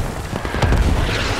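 A deep mortar explosion in the military shooter game Squad booms once in the middle, a loud broadband blast over a rumbling battlefield background.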